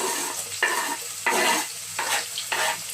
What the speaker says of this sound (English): So now I'm going to add onions.